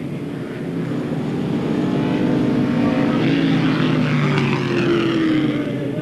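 Race cars roaring around the oval at Airborne Raceway during a 1992 weekly event, a loud sustained engine drone with pitch shifts as cars pass close by.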